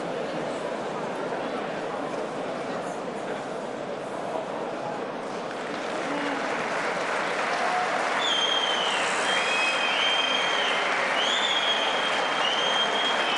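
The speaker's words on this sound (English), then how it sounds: "That's the sporting round of applause for Travis Walker" Boxing arena crowd applauding defeated heavyweight Travis Walker after his fight with Kubrat Pulev, sustained clapping that swells and grows louder partway through, with a commentator talking over it.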